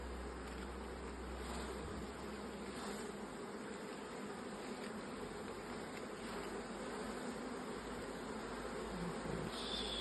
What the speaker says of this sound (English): Oh, there's a bee on there, Matt.